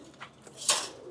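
A pigeon gives a short, soft coo close by, a single brief call with no one talking.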